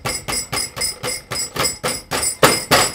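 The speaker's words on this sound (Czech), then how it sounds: "Vyjmeme pilku a použijeme sekáček na maso." A meat cleaver chops a block of ice for a cocktail, striking in a steady rhythm of about eleven sharp, loud, close blows, with no speech.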